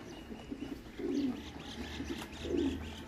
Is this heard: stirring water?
no